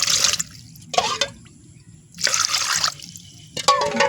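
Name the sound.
pouring water into jaggery for syrup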